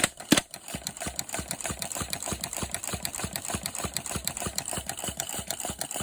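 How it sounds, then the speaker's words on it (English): A small Stirling engine turning a big fan chugs along in a fast, steady mechanical rhythm of light ticking pulses, close and fairly quiet, with no voices over it. "This is a super cool Stirling engine."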